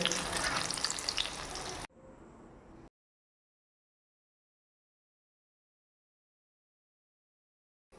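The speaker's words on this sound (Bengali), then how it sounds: "দেখো পকোড়াটা আমি তেলে ছেড়ে দিয়েছি আর দেখো কি সুন্দর ফুলেছে পকোড়াটা" Chicken pakoras deep-fry in hot oil with a loud, dense crackling sizzle for about two seconds, then a quieter hiss for a second before the sound stops into silence.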